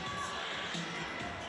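A crowd cheers and shouts at a women's basketball game in Geelong Arena, Victoria, a steady wash of broad arena noise with no single voice standing out.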